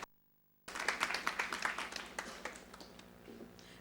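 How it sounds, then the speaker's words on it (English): After a short silence, an audience at a business event bursts into applause to welcome a Mahindra aftermarket sector CEO who has just arrived. The clapping starts loud and dense, then slowly thins and fades. "A huge round of applause,"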